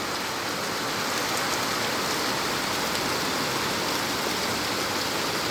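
Heavy rain pours down in Sylhet, a dense, even hiss that stays loud and unbroken for the whole stretch, with no voices.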